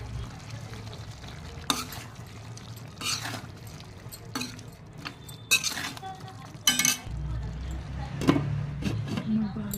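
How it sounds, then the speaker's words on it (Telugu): Chicken being stirred and fried in a pan, with scraping utensil strokes and clinks over a steady low frying hiss, close and moderately loud, in irregular bursts. "ముద్దని బాగా మిక్స్ చేసుకొని మళ్ళీ మంచిగా ఫ్రై కానివ్వాలి"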